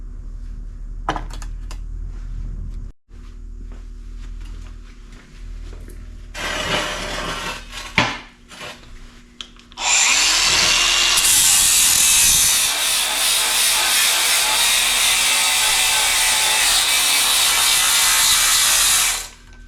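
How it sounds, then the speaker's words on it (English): Small clicks and handling noises lead into a loud, steady, harsh grinding as a power tool bites into metal for a heavy lift hook, running close and continuous for about nine seconds before stopping abruptly. "I'd say these things will do some serious grinding"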